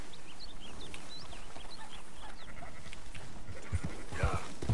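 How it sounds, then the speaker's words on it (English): Sheep bleat in a video game farm scene while being herded, scattered calls over a steady ambient bed with some low thumps near the end. "Never did I think I'd be herding sheep."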